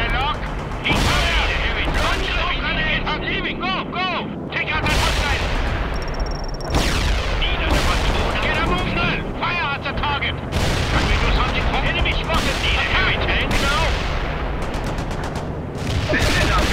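Tank cannons fire HEAT rounds in a World in Conflict battle, a run of loud, close booms and blasts every second or two, with radio-style voices talking between the shots.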